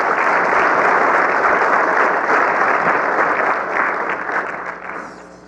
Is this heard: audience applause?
yes